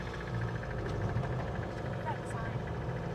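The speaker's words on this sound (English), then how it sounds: "That engine does not sound super happy either." A struggling Toyota Hilux pickup engine at full throttle drones steadily under strain, a constant low rumble with a faint whine, while someone talks over it.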